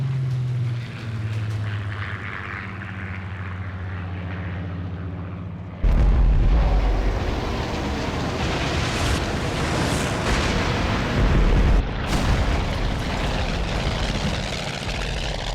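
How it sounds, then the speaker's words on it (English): Fw 190A-8 fighters of JG 1 attacking an airfield from the north: a steady drone of aircraft engines, then a sudden loud surge of rumbling blasts and roaring engines that continues to the end. "more than 30 FW-190A8s of 2nd Gruppe JG-1, led by Oberleutnant Fritz Wegner, attacks the airfield from the north"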